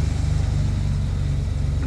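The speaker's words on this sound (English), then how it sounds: "Just so nice to see the Aerostar in motion, see it rolling down the street." A Ford Aerostar van rolling down a street, a steady low engine rumble with road noise, close and continuous for a brief stretch.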